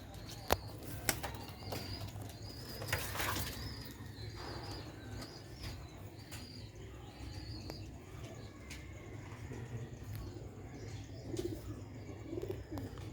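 Sialkoti pigeons, a solar-breed variety, flap their wings in several bursts while soft cooing and chirps repeat through a steady hum, fairly quiet and close.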